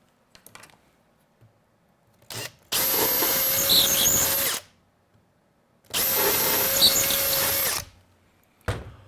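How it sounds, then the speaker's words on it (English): Power drill boring holes during a wiring job, two sustained bursts of about two seconds each with steady whine, separated by quiet pauses and a few short handling knocks. "And now we drill them."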